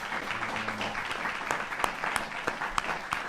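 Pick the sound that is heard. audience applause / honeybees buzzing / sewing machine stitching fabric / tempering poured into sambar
audience applause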